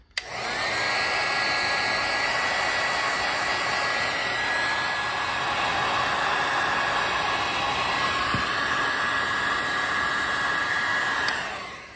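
A heat gun blows steadily at close range while heating a solder-seal heat-shrink connector during a lithium battery upgrade on a 1600 W 48 V scooter, a continuous loud whooshing hiss running the full length without speech.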